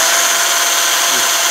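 A power drill boring into a Humvee bumper, a loud steady high-pitched whine held close and continuous throughout the short burst.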